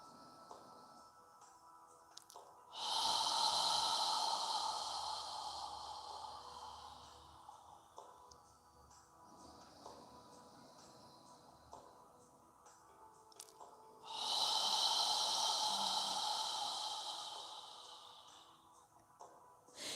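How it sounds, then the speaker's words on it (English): Two slow, deep yoga breaths pass through the nose and mouth, each a long, airy inhale and exhale roughly ten seconds apart, close and soft against a quiet room. "Try and fill your lungs completely with air and squeeze out all of the air on the exhale."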